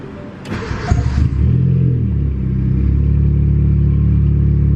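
A single-cam Honda D16 engine fitted with tuned injectors cranks briefly, catches and settles into a steady, close idle that holds evenly to the end.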